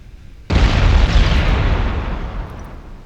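A heavy warship gun salvo in a naval battle game erupts suddenly with a deep booming blast, then rolls away in a long fading rumble.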